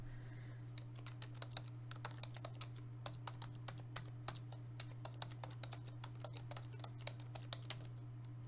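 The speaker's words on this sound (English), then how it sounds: "Sorry for all the typing." Steady computer keyboard typing, fairly close and continuous with irregular keystroke clicks over a constant low electrical hum, no voices.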